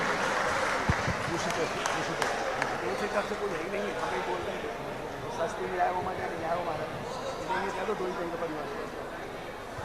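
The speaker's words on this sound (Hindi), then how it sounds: "जोरदार तालियां" An audience at a Jain religious discourse breaks into a scattered, crackling round of clapping that lasts several seconds, with voices and chatter mixed in over the applause.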